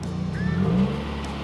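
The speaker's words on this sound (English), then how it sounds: "Go ahead and rev it. Don't blow my engine though." A Subaru WRX engine revs in neutral, a single throaty rise and fall lasting about a second, loud and close by with a steady idle rumble underneath.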